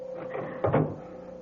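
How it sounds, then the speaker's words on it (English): A door is pushed shut indoors, heard as one brief thump with a short knock and rattle midway, set against a quiet, faintly humming room. "Close that door up."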